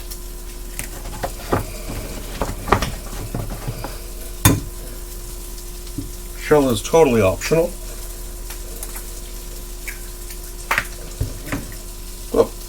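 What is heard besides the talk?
eggs frying and popping in a pan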